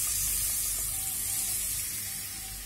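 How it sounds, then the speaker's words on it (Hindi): Milk poured into a hot pan for white sauce with the flame turned low, a loud broad hiss of sizzling close by that eases slightly toward the end, with no talking. "ये जो दूध है इसमें डाल दूंगी"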